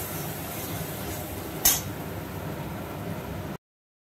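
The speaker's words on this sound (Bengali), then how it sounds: "আর এখানে মশলাটা কষিয়ে নিচ্ছি" Spice masala fries in a pan while it is stirred, a steady close sizzling hiss broken once by a sharp clink of the spoon against the pan.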